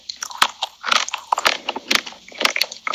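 Crunchy chocolate candy is bitten and chewed up close, with a rapid run of crisp cracks and crunches in an irregular rhythm and no talking.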